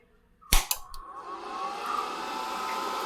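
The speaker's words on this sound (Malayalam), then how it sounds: "ഇനി നമുക്ക് മെഷീൻ ഓൺ ചെയ്യാം" An SMAW welding machine clicks on with a couple of sharp switch snaps, then its cooling fan spins up into a steady whirring hum that holds for a few seconds. No one speaks.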